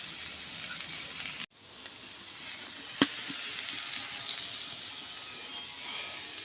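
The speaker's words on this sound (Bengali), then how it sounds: "চিচিঙ্গেগুলো দিয়ে আমি ভালো করে ভেজে নেব।" Snake gourd sizzling and frying in a pan with cooked prawns and potato, a steady soft hiss after a sharp cutoff, with a brief clink of utensil midway.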